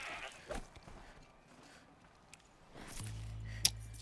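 A goat in the video game Horizon Zero Dawn lets out a brief bleat near the end, rising over quiet, low game ambience.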